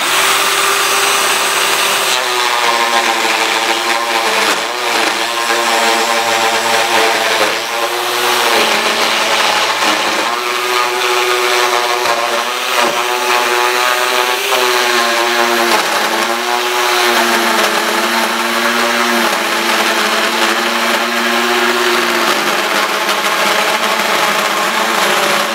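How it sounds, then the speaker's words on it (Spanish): A Black+Decker Matrix router/trimmer attachment fitted with a small bit runs continuously, a loud, close, high-pitched motor whine whose pitch wavers slightly as it cuts. "Al accesorio, que funciona como router o como recortador, le puse una pequeña fresa."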